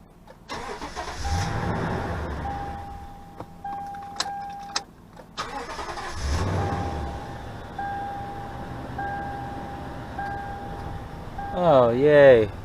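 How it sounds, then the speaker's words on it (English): A Toyota Tundra with a 5.7L engine cranks and starts after knock sensor wiring harness replacement, the engine catching and settling into an idle with door chimes beeping, a person talking quietly around it. "Let's see if the engine starts."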